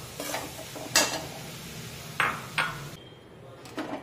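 Grated amla jam with sugar is stirred in a pan over a medium flame, with a soft continuous sizzle broken by a few sharp scrapes and clinks of a spoon against the pan.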